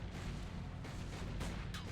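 Gunfire from the Sam and Max video game, aimed at a marble Lincoln statue: a dense, booming barrage of loud shots with sharp cracks breaking through near the middle and end.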